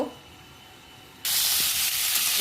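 Panch phoron spices hit hot oil with a sudden loud, steady sizzle that starts partway through after quieter kitchen background and keeps hissing to the end.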